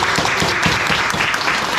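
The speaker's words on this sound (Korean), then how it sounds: "우리 환영의 박수 한번 치겠습니다" A church congregation claps in welcome, dense applause from many hands filling the room steadily and loud, with no talking over it.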